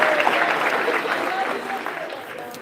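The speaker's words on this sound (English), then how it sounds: "Let's give them a round of applause." Steady applause from a crowd at a high school spring sports awards ceremony, loud at first and gradually tapering off, with no talking over it.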